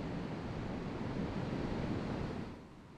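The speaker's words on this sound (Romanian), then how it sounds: "valurile sunt mari, vântul și curenții împing cadavrele plutitoare spre mal." High waves break and wash along a beach while strong wind gusts, a continuous roaring surf with wind rumble buffeting the microphone, easing off slightly at the end.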